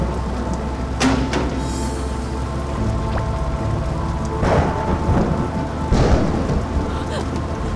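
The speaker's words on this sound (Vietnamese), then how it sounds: "sao như siêu bão vậy?" A heavy cartoon thunderstorm roars with steady, dense rainfall, and loud thunder cracks and rumbles break through it several times.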